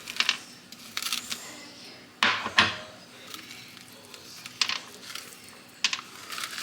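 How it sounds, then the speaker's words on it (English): Seeds being scooped out of a halved spaghetti squash, heard as scattered scraping clicks and a few sharper knocks, close and intermittent over a quiet room. "So the next thing is to scoop out all the seeds"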